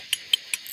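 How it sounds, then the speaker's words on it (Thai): Three or four sharp, evenly spaced cicada chirps ring out close and loud over a steady high buzzing drone. "จักจั่นนี่ลาย"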